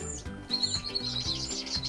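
Young canaries in show cages chirp and tweet continuously, thin high calls repeating close by over a soft background hum, with no one talking.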